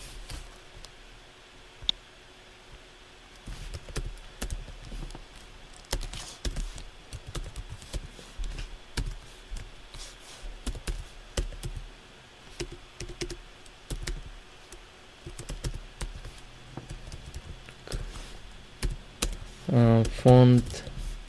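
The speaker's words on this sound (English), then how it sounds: "we're gonna type font" Typing on a computer keyboard while entering font styling for a VirtueMart sub-category view: scattered light key clicks in bursts under intermittent speech, fairly quiet and close.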